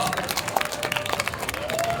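Audience applause at a stage show at a Hong Kong comics and games convention, a dense wash of clapping from a crowd, with a voice talking over it.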